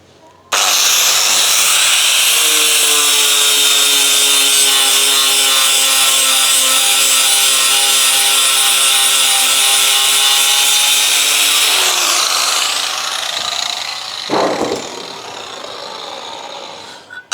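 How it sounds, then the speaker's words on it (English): A grinder scours rust and grime off an old salvaged metal plate: a loud, steady whining drone that runs unbroken for about eleven seconds, then shifts and roughens as the work changes, with a brief harsh scrape near the end. "I just got this old plate, just gonna grind all the shit off it."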